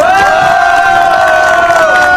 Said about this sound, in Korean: 큰 박수로 격려해 주시기를 부탁드립니다